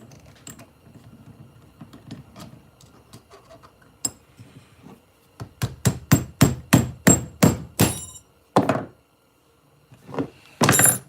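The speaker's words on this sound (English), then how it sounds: "Just a few whops of the hammer" A hammer knocks apart a leather trapper knife: scattered light taps give way to a run of about eight sharp, evenly spaced loud strikes, then a few more heavy blows after brief pauses, with no talk.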